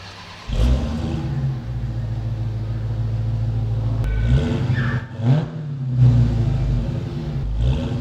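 A Dodge Charger SRT Hellcat Widebody with a supercharged 6.2-litre V8 starts up into a deep loud idle, then blips the throttle in several sharp revs with supercharger whine, heard close with no talking.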